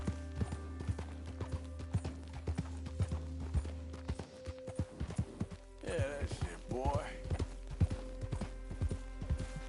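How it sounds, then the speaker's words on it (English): Horse hooves clip-clop steadily in Red Dead Redemption 2 on PS4, an even rhythm of close hoof falls running throughout, with a voice talking briefly partway through. "Acharam um cavalo abandonado aí"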